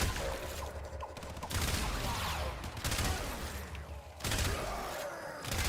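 Rapid gunfire bursts from headshots in the shooter game Warframe, dense and continuous across the whole stretch with thuds and mechanical clatter layered over a busy game soundscape.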